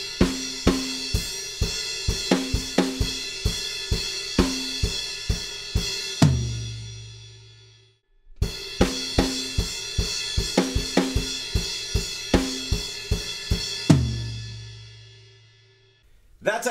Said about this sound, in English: The very final fill before we hit our outro is just a big stop on the toms